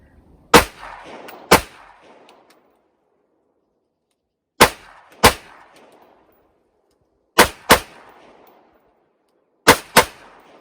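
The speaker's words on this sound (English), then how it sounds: "Just going to do one shot and then kind of slowly or methodically let my sight come back down and squeeze the trigger again" Pistol shots at a shooting practice crack out in pairs, eight sharp, loud reports in four evenly spaced doubles, each followed by a brief echo and then quiet.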